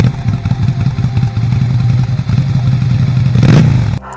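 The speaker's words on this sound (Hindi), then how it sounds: "तभी दूर से बाइक की आवाज" A motorcycle engine in a dramatized street scene, a loud rumbling putter with rapid clattering pulses that swells and peaks near the end before cutting off.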